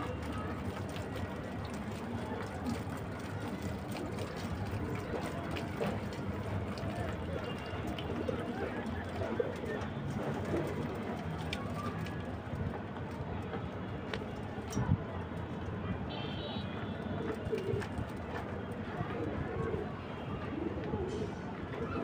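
Pigeons coo softly and repeatedly at a water dish set out for them to drink, the low calls steady under a busy background hum and occasional scuffling.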